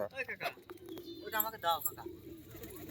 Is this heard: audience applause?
no